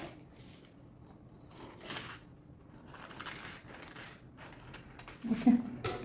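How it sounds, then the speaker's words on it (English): Fabric scissors trim around a traced circle-skirt pattern piece with soft, irregular crunching snips close by, the loudest cut landing near the end. "So I use my scissors and trim this."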